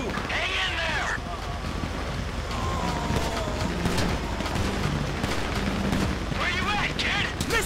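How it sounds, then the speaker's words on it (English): Gunfire in the video game GTA V, sharp shots crackling repeatedly under a dense mix of wind, engine rumble and game music, with brief bursts standing out amid the busy action. "You hear that gunfire?"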